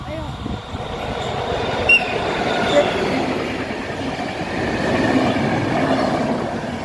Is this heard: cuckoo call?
no